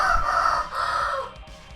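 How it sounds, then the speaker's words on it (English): A rooster crows close by in one loud, drawn-out call that rises and then trails off, lasting under two seconds, with faint background noise underneath. "that's one of the cockerels that's in during the storm, so sorry, he's going to crow throughout this"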